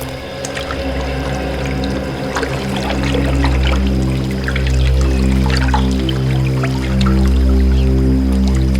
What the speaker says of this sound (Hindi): सचिन, रेडी, पी लो पानी।